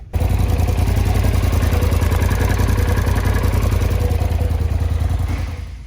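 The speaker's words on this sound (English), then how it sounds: "So, fire this machine up and see what comes of it." Polaris RZR XP Turbo side-by-side engine firing up and settling into a loud, close, rapid clattering idle that holds steady, then cuts off at the end.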